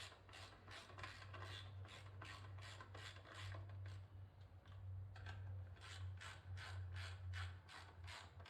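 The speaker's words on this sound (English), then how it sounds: "now that the chain is clean and lubricated, you can feel the difference when you rotate the wheel" A bike wheel spins with a freshly cleaned and lubricated drive chain, giving rapid, regular ratcheting clicks over a low mechanical hum, close and steady throughout.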